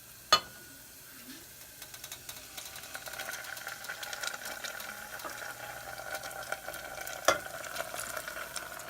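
Mustard being stirred into cooked-down onions and garlic in a pan for barbecue sauce, a low steady sizzle with intermittent scraping and a couple of sharp utensil knocks, close by with no speech.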